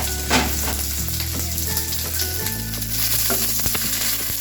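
Onion hitting a hot frying pan before a stir-fry of cabbage, pechay and bok choy produces a close, continuous sizzle with a few utensil scrapes, heard alone with no talking.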